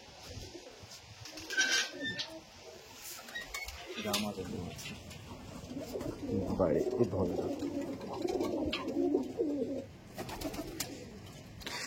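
Several pigeons coo softly in low, throaty bursts while a person talks nearby, with occasional clinks and rustles in the background.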